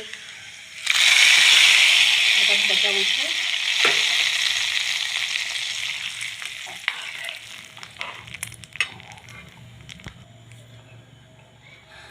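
Hot tempering (vaghar) poured over dal for dal baati erupts in a loud, close sizzle that slowly fades to crackling and scattered pops, with a brief spoken remark partway through.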